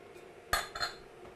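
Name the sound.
whisking corn dog batter in a bowl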